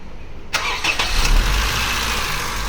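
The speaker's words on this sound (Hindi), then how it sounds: "अब गाड़ी स्टार्ट कर भाई।" A car engine is started up close during an ignition coil-on-plug diagnosis, with a sharp ignition onset followed by a steady idle that carries on loudly and evenly, with no speech.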